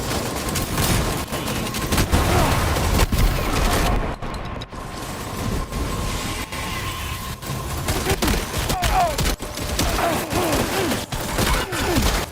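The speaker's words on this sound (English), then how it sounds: "I'm switching to the shotgun" Repeated gunfire bursts from a video game firefight, dense and loud throughout, with shotgun blasts among rapid overlapping shots and a brief lull midway.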